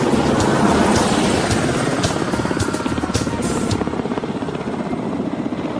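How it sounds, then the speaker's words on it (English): A Ka-25 anti-submarine helicopter lifts off from the deck of an aircraft-carrying cruiser for a demonstration flight. Its loud, steady rotor and engine roar sounds close and continuous, easing slightly toward the end, with no talking. "Ka-25 submarine Hunter starts off from the deck of the aircraft-carrying cruiser to perform a demo flight."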